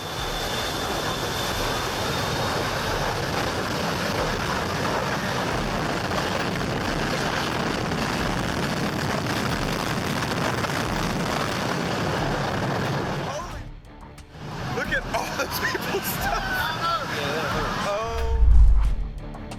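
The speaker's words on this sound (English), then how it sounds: "During takeoff from St. Martin's Princess Juliana International Airport, a plane unleashes an incredibly powerful jet blast" A jet's engine blast roars loud and continuous during takeoff at Princess Juliana International Airport on St. Martin, sweeping over Maho Beach. The roar drops off sharply near the end, then brief rumbling follows.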